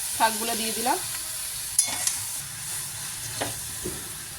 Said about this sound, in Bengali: এবার মেথি শাকগুলো দিয়ে দিলাম